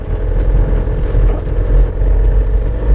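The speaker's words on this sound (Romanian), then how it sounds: "e destul de zgomotos motorul ăsta, dar na, fiind un diesel de generație mai veche" An older-generation Ford Transit camper van's diesel engine idles with a deep, rough rumble, steady and close, heard from inside the vehicle.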